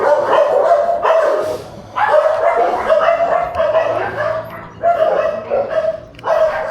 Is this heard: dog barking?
yes